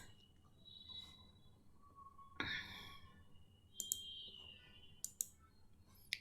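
A few close mouse clicks on a computer, sharp isolated ticks near the end after a soft rustle, quiet room with no talking.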